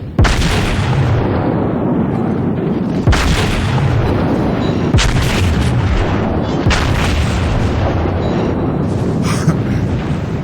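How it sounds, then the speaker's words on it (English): A battleship's secondary guns fire in World of Warships, the South Carolina, with a loud, constant barrage of booming shots and explosions layered over continuous roaring battle noise, each blast punching through the dense din. "I actually have no problem closing into my secondary gun range and letting my secondaries engage it as well"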